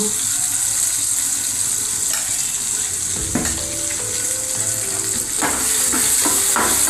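Onion and tomato with turmeric and salt sizzling and frying over low heat in a pan for an eggplant curry, a steady close crackle with occasional stirring scrapes throughout.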